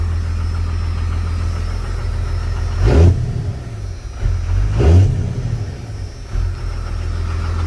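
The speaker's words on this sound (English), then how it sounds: "Revs like it's supposed to." A pickup truck engine idles nearby and is revved twice in sharp, rising bursts that fall back to a steady idle, with a smaller blip near the end.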